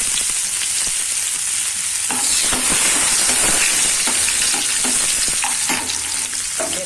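Chopped onion fries in hot oil with mustard and cumin seeds, a loud, continuous sizzle with close stirring scrapes and clatters from a spoon against the pan, and no speech.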